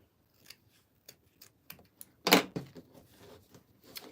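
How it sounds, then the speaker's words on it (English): Scissors cut through ribbon while a fedora hat is being decorated. A few faint snips lead up to one louder, close cut, followed by light handling noises. "And now I'm going to cut this ribbon right here."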